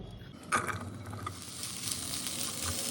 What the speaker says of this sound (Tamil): ஒரு கடாயில் எண்ணெய் ஊற்றி கோவக்காயை வதக்கிங்கோ.